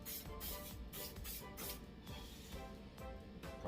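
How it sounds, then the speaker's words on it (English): Short bursts of mold release sprayed from an aerosol can, a few quick hissing puffs, faint and close with no talking. "So I think I'm just gonna give it a quick little spray."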